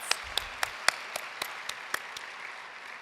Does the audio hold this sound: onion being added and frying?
no